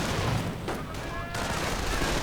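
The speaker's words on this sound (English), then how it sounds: "Grenades getting lobbed. Sniper firing away." Rapid gunfire and grenade blasts from a WWII strategy video game battle with riflemen, a sniper and a Sherman tank, forming a dense, continuous clatter of shots and bursts that stays loud throughout.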